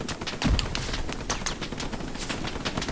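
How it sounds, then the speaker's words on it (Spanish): Rapid machine-gun bursts ring out from a rooftop during a Hell Let Loose battle, a dense, steady rattle of fire lasting several seconds at mid distance with sharp cracks on top. "En el tejado de arriba de la casa hay una ametralladora."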